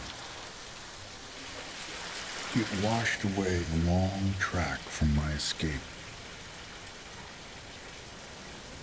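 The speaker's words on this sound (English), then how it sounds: "The great rain." Heavy rain falls steadily throughout as a constant hiss, while someone speaks over it in the middle.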